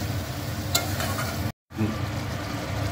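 Tomato and spices sauté in a hot pan with a steady, close sizzle and crackle, broken by a brief moment of total silence partway through before the frying resumes.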